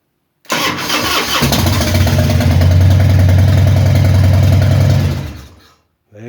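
A Harley-Davidson Heritage Softail Classic with solenoid problems, jump-started on boost, cranks briefly and fires into a loud, close, throbbing idle that runs for several seconds before shutting off.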